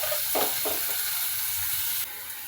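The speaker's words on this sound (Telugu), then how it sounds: "ఉల్లిపాయలు గోల్డెన్ కలర్ వచ్చే వరకు ఫ్రై చేయాలండి." Chopped onions, green chilies and curry leaves sizzle in hot oil in a pan, a steady, close frying hiss with a few soft stirring scrapes early on, the sizzle dipping slightly near the end.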